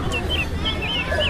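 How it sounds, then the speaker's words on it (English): A hen gives a brief burst of clucking, a few short calls close by over a steady low background. "H for hen"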